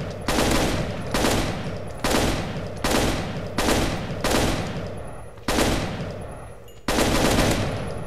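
Repeated Desert Eagle pistol gunfire from a Counter-Strike weapons mod in Minecraft: about eight loud, evenly spaced shots roughly one second apart, each a sharp crack followed by a decaying tail, with no voices.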